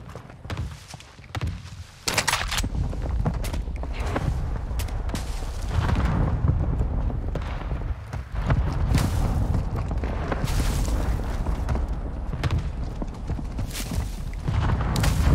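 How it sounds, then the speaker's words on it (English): Mortar strike explosions in the Modern Warfare 2 video game during a Ground War match: a dense, loud, continuous barrage of booms and rumbling blasts, with a quieter opening before heavy impacts take over after about two seconds. "Our mortar strike is inbound."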